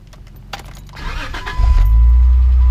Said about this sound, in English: my Jeep is in the ditch and I am trying to get it out now